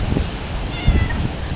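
A cat left at an abandoned earthquake-damaged house meows once, close and clear, over a rough outdoor background.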